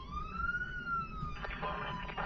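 A wailing emergency siren rises and holds a steady tone, then breaks into a faster warbling pattern, heard moderately loud over a low rumbling background with no talking.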